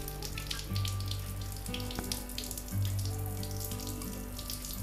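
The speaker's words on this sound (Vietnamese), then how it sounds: "Sau đó các bạn sẽ rửa sạch qua nước nha." Tap water runs steadily over a printer circuit board from an HP LaserJet 1020 as it is rinsed, a close, hissing splash with a low hum and a brief click partway through.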